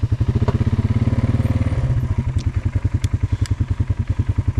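Polaris Sportsman 570 four-wheeler engine chugging in a steady low pulsing rhythm while trail riding downhill, loud and close, with occasional clunks and small clatters over the terrain.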